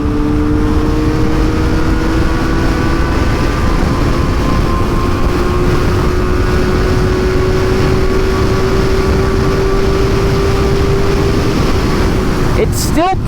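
A Kawasaki ZX-4RR motorcycle accelerating wide open in fifth gear in the left lane, a loud continuous engine drone with slowly rising pitch and heavy wind roar throughout.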